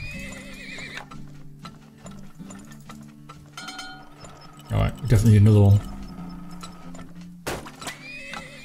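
Horse neighing and hooves clip-clopping in the oil tycoon video game Turmoil: a loud whinny mid-clip over a light tapping game backdrop, with someone talking briefly.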